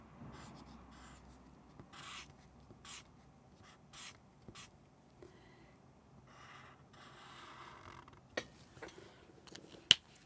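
Markers scratching and squeaking across thick marker paper in short strokes and dabs, close and quiet, with a few sharper taps near the end.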